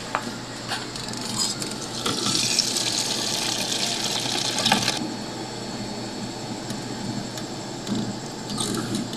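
Water pouring steadily into a container during a homemade coin prank, a continuous rushing fill that swells louder midway and then settles, heard alone without talk.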